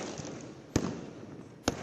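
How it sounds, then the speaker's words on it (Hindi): Two sharp fireworks bursts crack out less than a second apart, each a quick bang with a brief crackling tail, over quiet background murmur during a festival night at the Golden Temple in Amritsar. "आतिशबाजी का नजारा दिखा."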